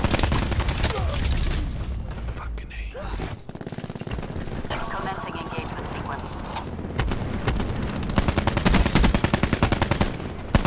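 SWAT RFT assault rifle fire in the Black Ops 4 video game: loud rapid automatic bursts, a brief lull, then heavy sustained firing with explosions mixed in, a player talking at times.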